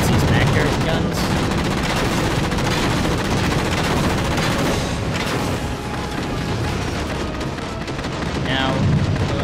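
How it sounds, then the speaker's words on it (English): Vector guns in Halo 4 keep up dense, continuous gunfire for the whole stretch, loud and close, with booming impacts and a voice talking over the barrage. "it activates these Vector guns"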